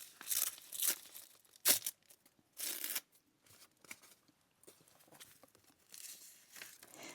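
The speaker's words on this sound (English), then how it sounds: "And we can rip this." Paper is ripped by hand while making a journal spread: a few quick tearing and crinkling rasps, fairly quiet and close, with brief pauses between them.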